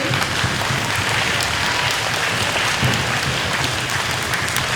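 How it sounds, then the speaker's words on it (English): A school audience at a Red Ribbon Week kickoff applauds with their hands, a dense, steady wash of clapping that stays loud and even throughout with no voices over it. "give them another round of applause with your hands"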